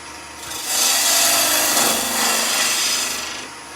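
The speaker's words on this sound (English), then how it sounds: "Now we'll start shaping, and I'm going to use a small bowl gouge" A small bowl gouge shapes wood on a lathe for a salt and pepper mill, making a loud close rasping cut that swells and eases over a few seconds, with no talking.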